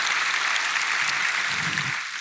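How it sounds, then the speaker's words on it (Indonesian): Congregation clapping during a church worship service, a steady wash of applause from a gathered crowd with faint voices underneath. "Berikan tepuk tangan kita untuk Tuhan kita."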